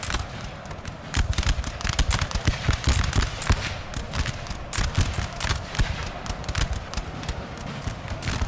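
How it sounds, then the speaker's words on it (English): Coldstream Guard infantry firing musket volleys in Napoleonic Total War 3, a dense unbroken crackle of many overlapping shots over a low battlefield rumble, steady and loud throughout. "Just every single one of their men is firing."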